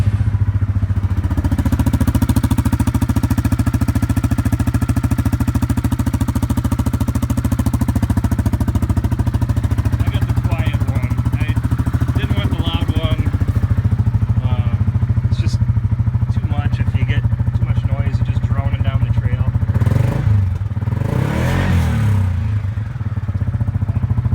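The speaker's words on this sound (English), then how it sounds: "we can fire this up. You can hear what the slip-on sounds like." Yamaha Wolverine R-Spec side-by-side with a slip-on exhaust, idling with a deep, steady, close engine rumble that picks up a rougher throttle blip near the end, and a voice talking faintly over it.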